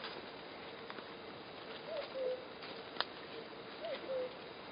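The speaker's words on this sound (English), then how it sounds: "Can you hear the cuckoo?" A cuckoo calls faintly from a distance across an open field of orache, giving two soft two-note calls about two seconds apart over quiet outdoor background.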